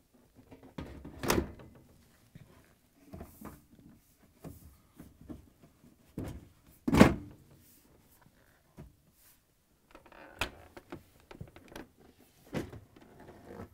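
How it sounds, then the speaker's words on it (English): A Bosch, Thermador or Gaggenau dishwasher door panel is fitted and fastened with Torx 20 screws, giving a few sharp knocks and thunks and some lighter plastic clicks and rattles, spaced irregularly against quiet pauses. "Install the door panel."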